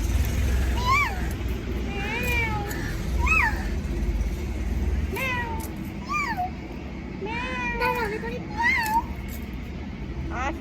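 A grandmother and her granddaughter trade repeated imitated cat meows, a series of short rising and falling cries over steady outdoor background noise with a low engine-like rumble; the meows are vocal imitations, not a real cat.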